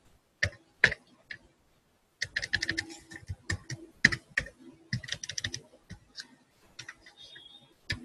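Keys clatter on a computer keyboard as a folder name is typed, a quick burst of clicks, a pause, then a longer run of irregular keystrokes, close and crisp in an otherwise quiet room.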